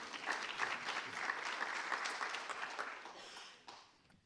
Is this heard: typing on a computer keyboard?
no